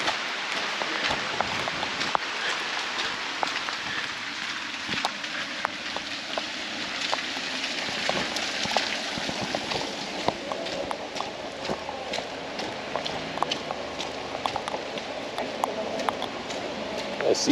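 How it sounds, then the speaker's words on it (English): Steady rain falls on a stone hilltop town in Assisi, Italy, a dense constant hiss with scattered sharp drips and patters throughout, no voices standing out. "Assisi in the rain."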